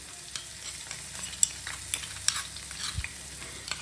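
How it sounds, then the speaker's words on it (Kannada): Crushed country garlic fries in a pan for spicy chicken gravy, giving a soft, steady sizzle with light stirring clicks and scrapes and no voices. "ಬೆಳ್ಳುಳ್ಳಿ ಹಾಕ್ಕೊಳ್ಳೋಣ."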